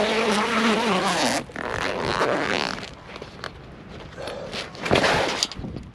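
A Bush Company awning's canvas outer bag being unzipped, a long rasping zipper pull close up, followed by further zipper bursts and rustling handling of the canvas, with no talking.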